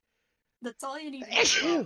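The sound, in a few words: sneeze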